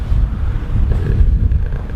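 Strong, steady wind buffets the microphone at a boat anchorage where gusts hold at 20 to 30 knots, a constant low roar without pause and no voices.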